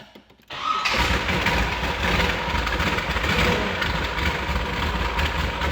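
After a short quiet moment, the V8 engine of a 1969 Chevrolet Corvette ZL1 cranks cold and catches with a loud roar, then settles into a deep, steady, rumbling idle close by.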